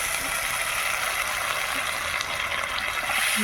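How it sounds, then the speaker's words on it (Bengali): Water poured into a pan of small fried mixed fish, a steady broad rushing gush filling the pan continuously, close and fairly loud with no voices. "এবার দিয়ে দিচ্ছি পরিমাণ মতো জল"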